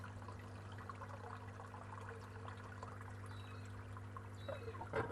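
Water pours and trickles through an auto siphon in an aquaponics IBC build as the siphon breaks, a faint continuous flow over a steady pump hum, with a slightly louder gurgle near the end.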